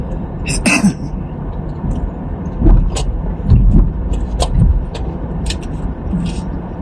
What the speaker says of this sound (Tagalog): Dami sasakyan.